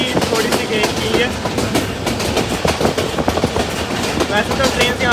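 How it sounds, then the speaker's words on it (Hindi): The Chenab Express passenger train, pulled by a GMC-15 locomotive between Sargodha and Mandi Bahauddin, gives a steady rhythmic clickety-clack of wheels on rail joints, loud and close with a constant rumble underneath. "बड़े ज़बरदस्त किस्म के ट्रैक साउंड के साथ हम लोग बढ़ रहे हैं अपने नेक्स्ट स्टॉप कोतवाल की तरफ"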